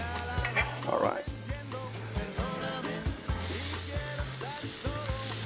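Onions fry in a pan in a Spanish kitchen with a steady, lively sizzle, stirred now and then with knocking and scraping utensil sounds close by.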